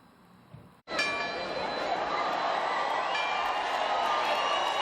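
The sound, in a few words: church bells ringing to announce patron saint festivities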